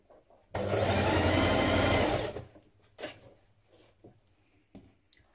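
Sewing machine stitching a 1.5 centimetre seam on a pullover dress, one loud close burst of rapid whirring lasting about two seconds, followed by soft fabric handling and small clicks.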